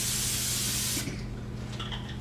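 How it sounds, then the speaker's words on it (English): Non-stick cooking spray hisses steadily onto a skillet for about a second, then cuts off, leaving faint kitchen ambience. "You take your non-stick spray, shake it up,"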